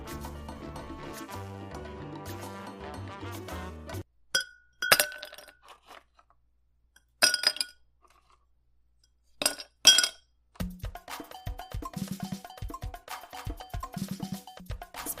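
Glasses clink together in a toast, several sharp bright chinks spaced apart amid pauses of quiet, with other busy sound before and after.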